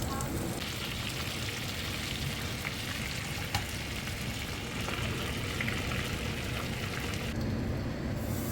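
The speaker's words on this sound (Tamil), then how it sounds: "நல்லா ஆயில் சூடான பிறகு இந்த விங்ஸ் எல்லாம் போட்டு பொரிச்சு எடுக்கணும்" Chicken wings deep frying in hot oil for BBQ wings, a dense, continuous crackling sizzle that stays loud and close throughout with no pauses.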